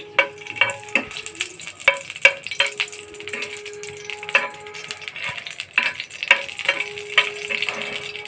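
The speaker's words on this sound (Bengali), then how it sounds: "শুকনো মরিচটা আমি ভালোভাবে ভেজে নেব" Dried chillies frying in mustard oil in a pan give a steady broadband sizzle, with scattered crackles and sharp metallic clinks from stirring against the pan throughout.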